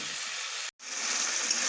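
Spice paste with salt, turmeric and a little sugar frying in oil for a vegetarian jackfruit curry, a steady close hissing sizzle broken by one brief silent gap.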